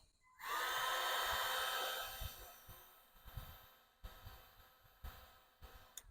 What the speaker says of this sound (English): I decided to go with the scraper and the heat gun